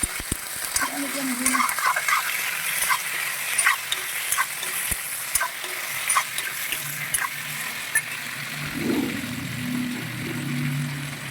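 Food sizzles and fries in a pan as onions are cooked for a meat dish, with a spatula scraping and stirring at intervals, close and fairly loud, and the frying continues steadily throughout.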